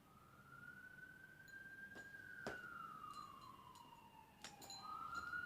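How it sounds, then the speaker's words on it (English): A single wailing siren outside, rising and falling slowly as it passes at a distance, faint against quiet indoor room tone with a few soft knocks. "And there's a siren."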